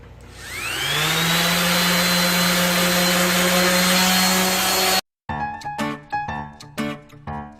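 A belt sander whirs up to a loud, steady drone with grinding hiss, then stops; afterward come several sharp, uneven rubbing and scraping bursts of a rubber cleaning block against the sanding belt.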